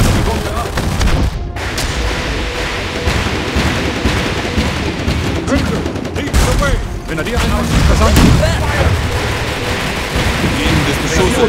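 Rocket launcher artillery and other battle fire in the World War II strategy game Road to Valor, a dense, loud, continuous barrage of booms and blasts with German voice lines mixed in.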